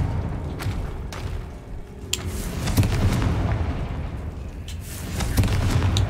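Booming fire-spell explosions from the Confringo curse in the Hogwarts Legacy video game, several sharp bursts rising over a dense, continuous game soundscape.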